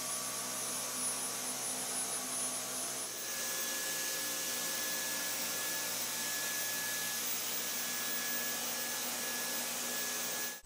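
Dyson Cyclone V10 cordless vacuum cleaner running on a flat hard floor to pick up fine self-raising flour, a steady high whine with a constant motor hum that shifts pitch slightly partway through, alone and unbroken.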